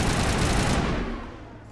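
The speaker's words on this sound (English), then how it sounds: "Oops, that's a grenade." A grenade goes off in Mass Effect, a short loud burst of blast noise that quickly decays into a fading rumble.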